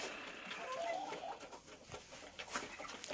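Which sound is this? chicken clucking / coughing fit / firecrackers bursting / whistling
chicken clucking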